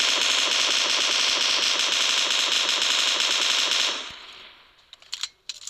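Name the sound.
gunfire from a weapon in a video game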